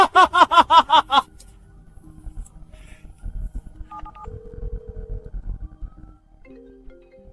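A telephone dials for a call, a quick run of about eight clear touch-tone beeps, followed by quiet line noise and a few faint electronic tones.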